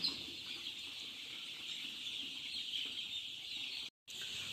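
A brood of ten-day-old Sonali chicken chicks, due for a Gumboro vaccine, keeps up a continuous, fairly faint chorus of high peeping that cuts out for a moment near the end.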